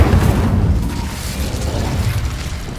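A fiery Incendio spell bursts in Hogwarts Legacy with a loud rumbling whoosh of flame that swells at the start and slowly fades over a few seconds.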